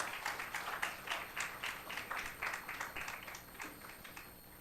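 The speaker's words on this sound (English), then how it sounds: "Big round of applause once again." Audience applause after a Carnatic vocal concert, steady rhythmic clapping from a modest crowd heard at moderate distance, continuous and without talk.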